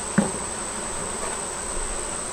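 Honey bees buzz at an open hive during an inspection after a hot month, a soft, steady hum with a faint constant whine and one brief knock near the start.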